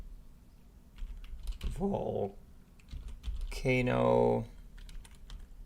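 Fingers tap on a computer keyboard in quick, light clicks, partly buried under a man's speech.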